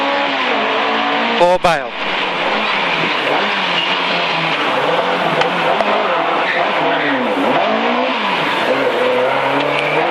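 Historic rally car at the British Historic Rally Championship on the Isle of Man, its engine loud and close as it accelerates hard toward a hairpin, with rising and falling revs through gear changes and a sharp burst near the start, while a co-driver talks over it.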